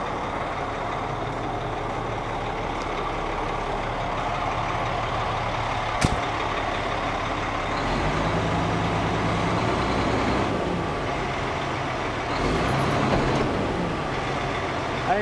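A large Kenworth truck engine idles and revs steadily as it tries to reverse with brakes frozen to the drum, with a brief sharp knock and hissing air-brake sounds, loud and continuous.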